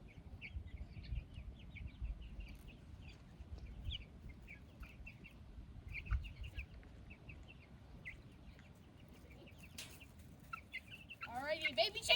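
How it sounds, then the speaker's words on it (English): Baby chicks on a farm make quiet, scattered clucks and peeping calls throughout at feeding time, over a low background rumble, with faint chirping rising near the end. "Alrighty, baby chickies!"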